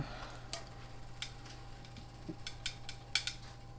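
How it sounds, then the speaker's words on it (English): Butter melting in a cast iron skillet gives a soft, steady low sizzle with a few sharp scrapes and clinks of a utensil on the pan, heard close with no talking. "put my butter in, let that melt"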